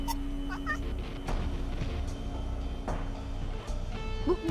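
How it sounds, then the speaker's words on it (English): A cartoonish Schrodinger cat in the Chaos on Deponia adventure game meows several times over a busy game soundscape, short mid-pitched cries scattered through the scene, with brief voices in the background. "this is a Schrodinger cat"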